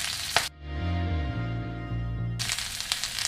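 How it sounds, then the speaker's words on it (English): Vegetables and mushrooms hit hot oil for a Chinese chicken lo mein, letting out a loud, steady sizzle after a brief clatter. The frying carries on continuously with bursts of stirring noise near the end. "so I'll throw in the rest of my vegetables and mushrooms"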